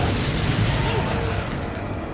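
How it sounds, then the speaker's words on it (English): A fire grenade going off in Resident Evil 4: a loud, sustained burst of roaring flame and crackle that fills the whole moment, dense and close with no gaps. "This is one of those instances where a fire grenade's always fun."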